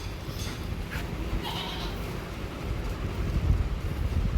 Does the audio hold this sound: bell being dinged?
no